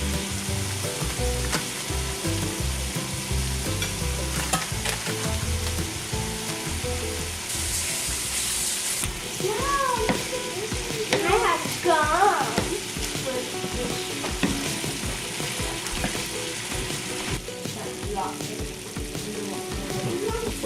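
Cream cheese cubes melt in a pan over heat set just above low, a continuous close sizzle with stirring scrapes and occasional clatter, with faint voice-like sounds in the middle.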